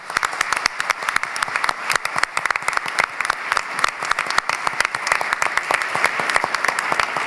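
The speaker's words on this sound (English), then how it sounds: "a special round of applause to the man who organized this event" Audience at a candidate debate event in Calgary Elbow breaks into loud, sustained applause, dense rapid clapping from many hands filling the room without pause and with no voices over it.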